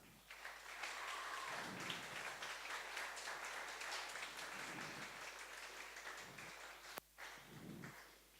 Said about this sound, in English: So please, one more applause.